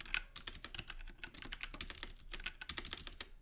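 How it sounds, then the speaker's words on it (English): Rapid typing on a computer keyboard, a steady close-up clatter of keystrokes with quick irregular bursts and brief pauses, with no voices over it. "Oh, my typing feels really slow today"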